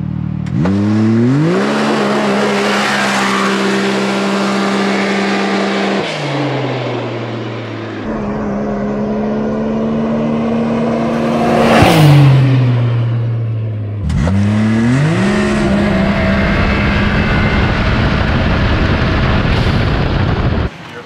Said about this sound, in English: RPMs are maxing out, you're not getting enough load on the car to get more boost.